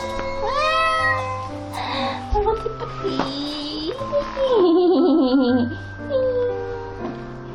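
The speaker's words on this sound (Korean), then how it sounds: "와, 고양이야" A cat meows several times, near and fairly loud, its calls rising and falling in pitch with short pauses between them.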